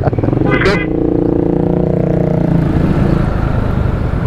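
Kawasaki Ninja 650 motorcycle riding in the rain, its engine droning steadily at low revs close up, with a brief higher rise near the start and constant wind and road noise underneath.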